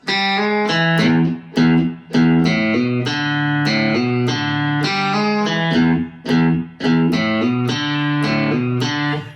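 An electric guitar plays a riff slowly with a gritty, slightly distorted tone, clear repeated chords and bass-string notes with brief pauses between phrases.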